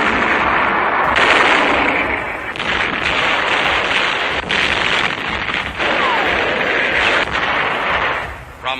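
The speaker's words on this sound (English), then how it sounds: "the 5th United States Marine Division fires on Japanese gun emplacements studding the mountain" In 1945 at Iwo Jima, US Marines of the 5th Division fire on gun emplacements on Mount Suribachi, with heavy, repeated gunfire and artillery blasts overlapping in a dense, loud, continuous barrage.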